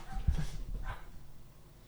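A loose dog gives a couple of short, muffled barks, mid-distance and fairly loud at first, then fades into background noise.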